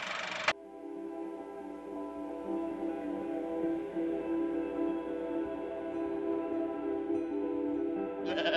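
Sheep bleat in a long, steady, sustained call that carries for several seconds without pause, with a brief sharper sound at the very start and another faint one at the end.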